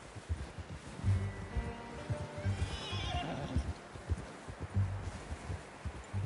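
A horse whinnies midway through Red Dead Redemption, a rising and falling neigh over steady clip-clopping hooves and low rumbling movement.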